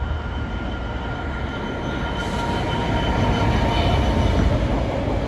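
A Class 66 diesel locomotive hauls a Southampton intermodal freight train past at reduced speed, giving a loud, steady rumble of engine and rolling wagons that swells slightly toward the end, with no talk.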